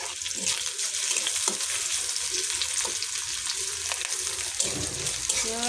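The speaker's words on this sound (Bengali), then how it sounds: "আমি কড়াইতে দিয়ে দিলাম তেল আর পেঁয়াজ" Steady, loud sizzling of onions frying in hot oil in a wok, a continuous crackle with occasional stirring clinks throughout.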